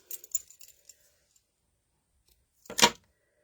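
Scissors cutting thread, with a few light metallic clicks and rustles at the start, then a single crisp snip after a pause, close and quiet with no talking.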